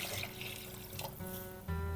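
Tap water runs into a cup for mung bean soup, a short, quiet, steady stream that ends in a brief louder gush.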